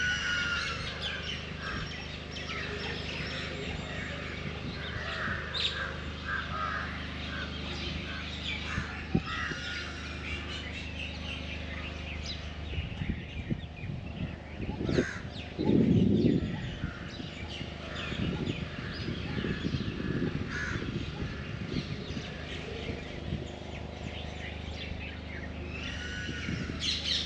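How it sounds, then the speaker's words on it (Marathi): Crows caw repeatedly and other birds call and chirp behind a hilltop temple near Pune, a busy layered chorus at moderate distance with one louder, closer outburst partway through. "पक्ष्यांचाच फक्त आपल्याला कलकलाट ऐकायला मिळतो"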